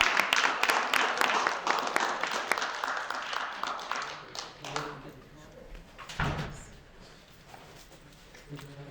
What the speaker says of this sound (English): And can we clap it up for my brother Jamal Gooden coming from Nebraska?